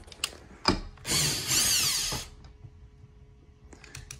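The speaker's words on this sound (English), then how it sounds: "I like to use a drill if I really want to feel a screw." A power drill drives a screw diagonally while a Sol-Ark 15k inverter is mounted on a wall: a short whirring burst followed by a longer strained whine as the screw tightens, close and loud, then quiet clicks.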